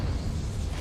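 The Confringo fire spell in the Hogwarts Legacy video game lands as a short, dense roaring burst with a heavy low rumble, loud and close.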